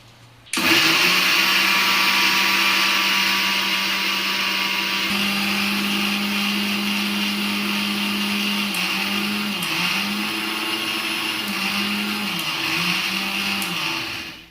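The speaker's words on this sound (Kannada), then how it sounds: "ಹುರಿದಿಟ್ಟಿರ್ತಕ್ಕಂಥ ಅವಲಕ್ಕಿನ ಈಗ ಮಿಕ್ಸಿ ಮಾಡ್ಕೊಳ್ಳೋಣ" An electric mixer grinder whirs loudly and steadily up close as it powders roasted poha (flattened rice) for laddu. The motor drones for about fourteen seconds, with brief pitch dips near the end as it is pulsed before cutting off.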